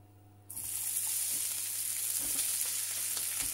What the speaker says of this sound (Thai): ส่วนผสมทั้งหมดลงไปผัด